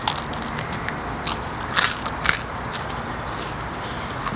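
Crunchy, slightly burnt pizza slice bitten into at a burger restaurant, a few dry crackling crunches rising over steady background room noise.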